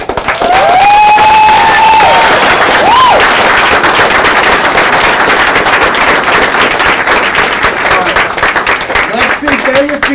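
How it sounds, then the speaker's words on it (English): A masterclass audience gives a big round of applause, loud and sustained dense clapping with bright whistles and cheers rising over it early on, continuing strongly to the end. "I need a bigger round of applause for"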